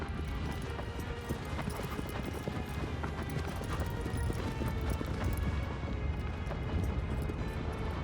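Hooves pound in a fast gallop as a horse runs through the desert in Shadow of the Colossus (2018 remake), a continuous close, loud drumming rhythm mixed with a low rumble of wind.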